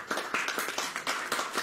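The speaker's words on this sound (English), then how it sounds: "So if you could just give him a clap offering." A church congregation claps together during a service, producing crisp, evenly spaced beats in a quick steady rhythm over a short stretch, fairly close and with no talk.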